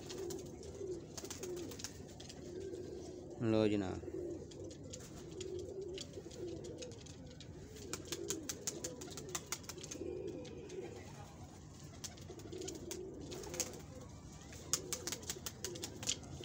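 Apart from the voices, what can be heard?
pigeons cooing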